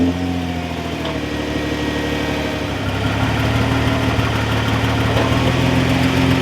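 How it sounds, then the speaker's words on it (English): A Nissan GTR idles with a continuous low engine hum and a faint metallic rattle from the bell housing, steady and close throughout with a slight rise in level partway. "idling, the bell housing rattles. It sounds so bad. It sounds like the transmission is falling apart."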